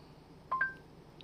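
A couple of short electronic phone dialing tones beep in quick succession from a Mitsubishi Xpander's Android Auto system, faint over a low background hum, followed by a brief softer blip.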